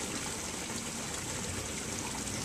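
Steady splashing and trickling water from a small garden pond waterfall spilling into the pond at night, constant and fairly close with no other sounds.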